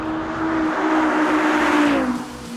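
An Audi R8 RWD with a 5.2-litre V10 roars past at speed, its engine tone rising and then dropping in pitch as it passes, loud and close over about two seconds.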